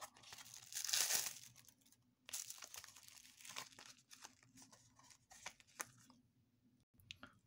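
Rolling paper pulled from its pack and handled, with crisp crinkling and tearing rustles in uneven bursts, loudest early on, then softer intermittent crackles up close.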